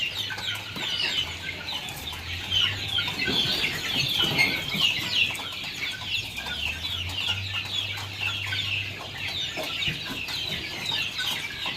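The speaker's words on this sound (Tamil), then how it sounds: "வர 2 கோழி சண்டை போடுது." Several chickens clucking and squabbling in a spacious pen, with a steady layer of birds' calls and brief scuffling bursts, fairly close and continuous throughout.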